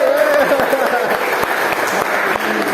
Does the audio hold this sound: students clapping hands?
yes